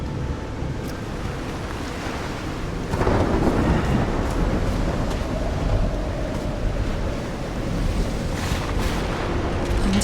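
A thunderstorm with heavy rain in the video game Call of the Sea: steady downpour and wind, with a rolling thunder crash building around the middle and more rumbles later.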